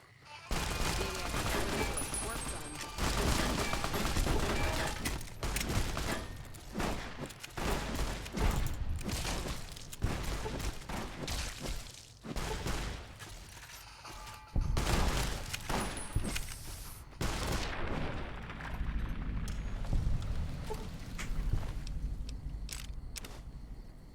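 Brush gun fire in Fallout: New Vegas, loud sharp reports repeating in irregular bursts with rapid volleys and short pauses across the stretch, alongside someone talking at times.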